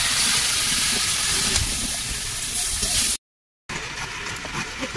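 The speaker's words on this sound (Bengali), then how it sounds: "সবজিটা দিয়ে দিলাম।" Vegetables hit a hot pan in a village kitchen, giving a loud, steady broadband sizzle and hiss that runs continuously, briefly cut off, then resumes just as strongly.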